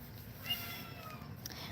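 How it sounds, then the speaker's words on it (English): A cat meows faintly indoors, a soft, thin cry against a quiet room with low background hum and no talk over it. "I hear a kitty."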